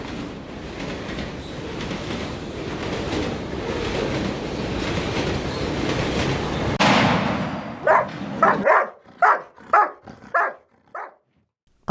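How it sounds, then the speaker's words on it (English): Rumbling train noise gives way to a dog barking sharply several times in quick succession, loud and near, then falling quiet. "suddenly the sound of barking dogs and screaming soldiers"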